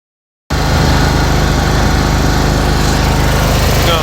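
A Hustler Hyperdrive zero-turn mower's engine starts abruptly after a brief silence and then runs at a loud, steady drone close by, with no talking.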